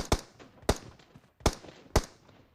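Four sharp gunshots in PUBG Mobile, spaced roughly half a second apart, each a crisp loud crack with a short tail, alone without talk.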